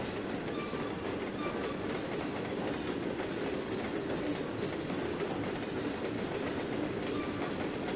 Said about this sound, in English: You're just banging over the switches there.